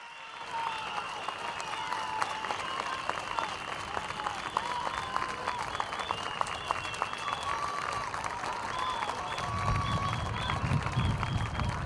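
Sustained loud applause from a large political rally crowd in Bahçelievler, greeting Zeydan Karalar, dense clapping with cheering over a steady roar, joined by a low rumble near the end.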